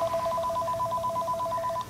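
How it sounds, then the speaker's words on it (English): A telephone rings in a rapid, regular electronic warble that repeats steadily and stays clear and close before cutting off at the end. "When Elliot and Andy Strauss hear their phone ring, they take a good look at the caller ID."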